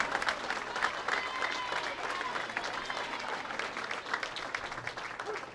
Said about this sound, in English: Let's get a round of applause for all of our qualifiers